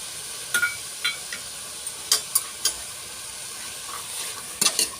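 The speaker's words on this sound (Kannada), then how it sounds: "ಇದನ್ನು ಚೆನ್ನಾಗಿ ಮಿಶ್ರಣ ಮಾಡ್ಕೊಂಡು ಸ್ವಲ್ಪ ಬಾಡಿಸ್ಕೊಳ್ಳೋಣ" Potatoes and peas being stirred and sautéed in a hot pan for a vegetable pulao, with a steady soft sizzle under scattered sharp spoon clicks and scrapes against the metal.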